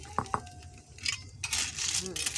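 Coconut milk being stirred in a cooking pot for ginataang suso, snails simmered in coconut milk: two sharp metallic clinks of a spoon against the pot, followed by scraping and sloshing stirring sounds, close up with a voice talking nearby.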